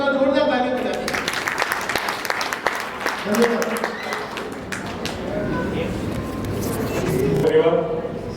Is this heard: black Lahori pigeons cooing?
no